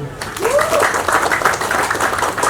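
Applause from a gathered audience at a village visit by KMHDI students in Sidorejo, a loud burst of clapping close by with voices mixed in.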